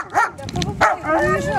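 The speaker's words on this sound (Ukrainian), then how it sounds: "Нас собака охраняет." A dog gives a couple of quick, close barks and yips, mixed with people talking nearby.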